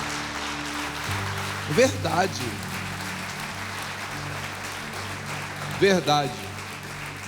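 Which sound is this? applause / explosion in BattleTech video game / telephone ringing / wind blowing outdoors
applause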